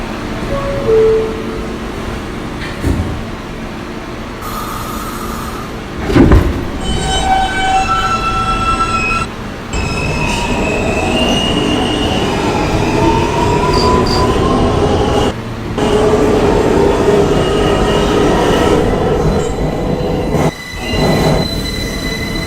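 A Queens-bound New York subway E train pulls out of the station, wheels squealing and grinding steadily and loudly, with rattling cars and a few sharp clunks.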